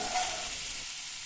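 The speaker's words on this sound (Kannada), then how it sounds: "ಇವಾಗ ನಾನು ಒಂದೊಂದೇ ಫಿಶ್ನ ಕವಲಿ ಮೇಲೆ ಹಾಕಿಬಿಟ್ಟು ಫಿಶ್ ಫ್ರೈನ ಮಾಡಿಕೊಡ್ತೀನಿ" Anjal fish slices frying in hot oil on a pan, a steady broadband sizzle that stays even and close for the whole short stretch, slightly stronger at the start.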